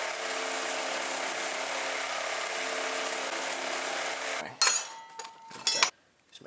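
A piece of circuit board material is cut for a knife part: a steady, even grinding hum runs for several seconds, then breaks into sharp clatters and bursts before stopping.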